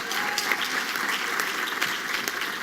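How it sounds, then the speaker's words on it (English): Audience applause at the Congressional Black Caucus Foundation's 2013 Annual Legislative Conference Africa Braintrust, a dense, steady wash of many hands clapping throughout with no voices standing out. "I appreciate you giving my sister another round of applause"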